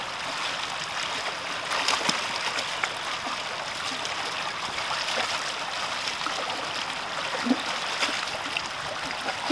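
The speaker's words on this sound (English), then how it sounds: "Mountain spring." A mountain spring stream in Stanislaus National Forest rushes over rocks in a steady, full broadband wash of water that runs unbroken and close throughout, with small splashes now and then.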